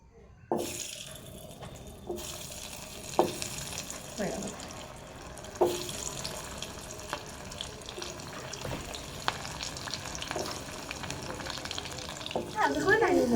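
Potatoes rubbed with salt and turmeric fry in hot oil in a kadai, a steady crackling sizzle throughout with occasional sharp pops and clinks of stirring.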